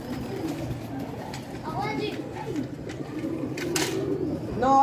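Pigeons cooing at a bird show alongside quail, soft repeated coos near at hand under ongoing chatter from people nearby.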